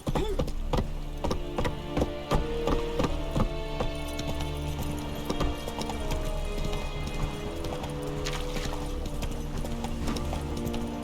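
Horse hooves clip-clopping in steady rhythm as a mount is ridden in The Witcher 3 video game, with an occasional whinny over a continuous bed of game music and ambience.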